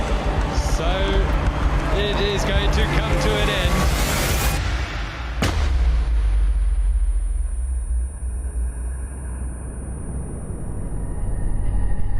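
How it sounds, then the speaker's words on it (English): A single sharp gunshot, the cut-off gun of the 2022 Comrades Marathon, cracks out midway through steady crowd noise and a voice talking over the finish area. "that is the dreaded cut-off gun"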